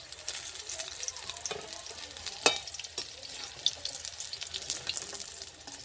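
Chicken pakoras fry in hot oil with a soft, steady sizzle, broken by occasional clinks and stirring scrapes as pieces are turned and lifted out.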